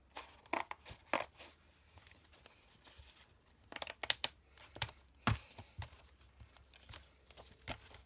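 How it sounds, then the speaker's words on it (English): Scissors cutting through a sheet of notebook paper down the middle, giving a close, quiet run of irregular snips and crisp rustles with short pauses between cuts. "I think I'm going to cut this down the middle."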